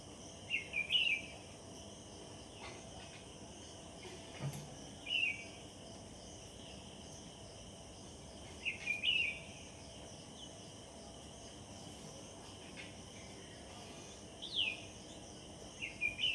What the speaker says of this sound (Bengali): সকালে পাখির মিষ্টি আওয়াজগুলো কী যে ভালো লাগে